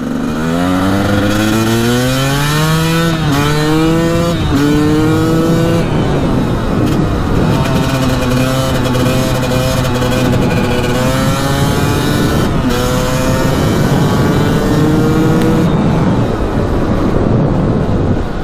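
A Honda CR250 two-stroke motorcycle is ridden hard, its engine loud and close, climbing repeatedly through high-pitched revs with brief drops between gear shifts.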